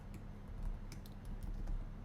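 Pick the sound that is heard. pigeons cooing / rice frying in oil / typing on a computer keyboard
typing on a computer keyboard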